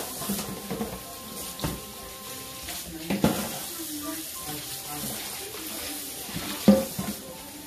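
Chicken wings being rinsed under a running kitchen tap during holiday meal prep, a steady stream of water with splashes and clatter, fairly close, with brief speech in places.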